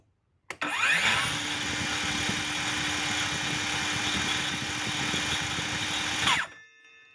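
A DCA 6.5-inch cordless circular saw runs unloaded near 4828 rpm: a sharp click, then a steady high-pitched motor whine holding for about six seconds close by before it cuts off and winds down.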